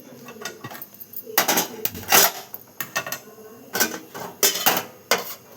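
A metal cooking pot is set down and shifted on a kitchen stove, giving a series of sharp clanks and scrapes of varying loudness close by, with no talk.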